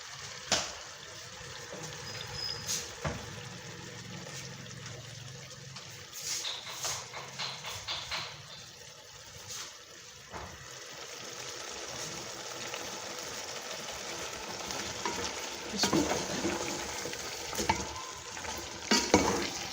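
Eggplant pieces frying and being stirred in a hot pan for an aloo baingan dish, a steady moderate sizzle with intermittent scraping and stirring clatter close by, no talking.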